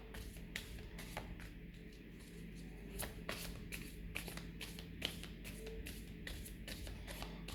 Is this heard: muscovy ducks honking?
no